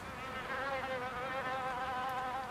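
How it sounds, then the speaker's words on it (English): A bee buzzes steadily and close by, a continuous droning hum that wavers slightly in pitch for the whole stretch, with no voices. "There was a bee."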